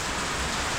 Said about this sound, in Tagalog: Sana tumigil yung ulan